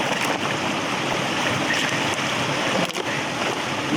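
Water rushing through a hole torn in a beaver dam on a pond, a steady, loud, close broadband gush with no pauses.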